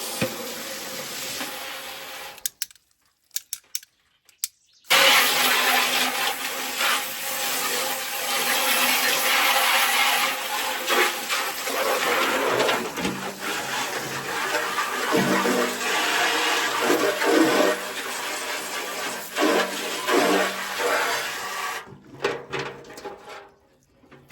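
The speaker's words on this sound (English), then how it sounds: "So I'm going to give it a little rinse first." Hose water rinsing an old hand pump converted into a rustic farmhouse fountain, a steady rushing spray with splashing that runs for about seventeen seconds, framed by brief quiet gaps at the start and end.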